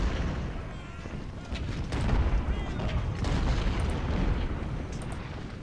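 Distant artillery pounding in the Civil War strategy game Ultimate General, a low rumbling barrage of booms layered over battlefield din, moderately loud and continuous, with faint bursts scattered throughout.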